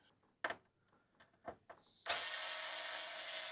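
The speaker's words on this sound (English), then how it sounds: "we'll unscrew these, and as you can see, they're quite long screws" Long heatsink screws being unscrewed from an HD271A TEGRA board: a few sharp separate clicks and ratcheting ticks, then a sustained loud whirring from about two seconds on.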